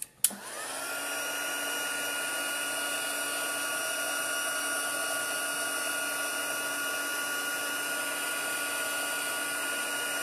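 A handheld heat tool blows steadily for about ten seconds, a loud continuous whir that begins abruptly after a brief click, used to heat embossing powder on a paper stamping craft project on a desk.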